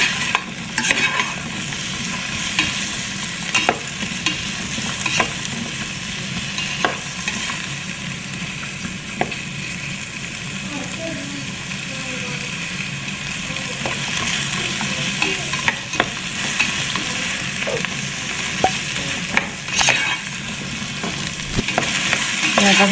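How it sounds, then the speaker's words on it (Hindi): Capsicum lightly frying in oil while being stirred, a continuous close sizzle punctuated by frequent spoon scrapes and clicks against the pan, fairly loud and steady. "तो मैं इसको हल्का सा फ्राई कर दूँगी।"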